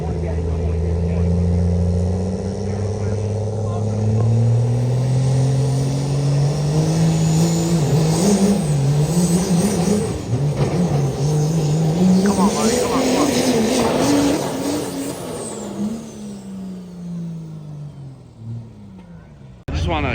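A high-horsepower pulling truck engine roars loudly at a truck pull competition, rising in pitch as it revs hard for about fifteen seconds, then fading away, with voices mixed in.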